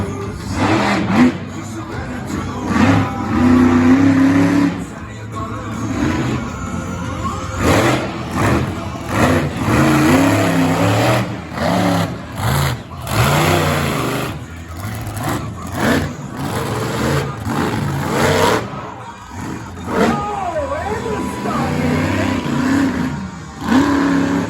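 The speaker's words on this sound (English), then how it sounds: "he's headed for the coolest jump in all of monster trucks" A monster truck's engine revs hard through a freestyle run at an outdoor arena show in Tremonton, roaring and surging loudly over crowd noise and an announcer's voice.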